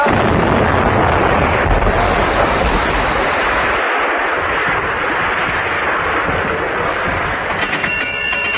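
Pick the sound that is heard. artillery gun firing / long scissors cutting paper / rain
artillery gun firing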